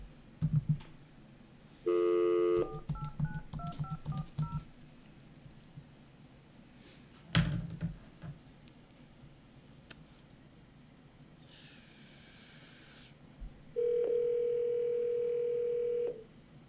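A telephone sounds a short series of dialing tones for a number, followed by a steady dial tone, with handling noises, clicks and light keyboard tapping in a quiet indoor room.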